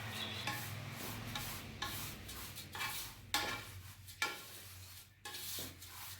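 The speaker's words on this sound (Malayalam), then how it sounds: "ഇനി ഈ അവൽ ഒരു 5 മിനിറ്റ് നേരം നന്നായിട്ടൊന്ന് വറുത്ത് കൊടുക്കാം" Flattened rice (aval) roasts in a pan while a spoon scrapes and stirs it in repeated dry rubbing strokes, with a faint low hum underneath.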